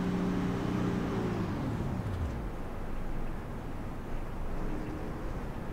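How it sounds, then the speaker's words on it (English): A pace car drives past on a race track, its engine tone sliding downward as it passes close by, then fading into a steady roar of ambient track noise. "Pace car will go by one more time."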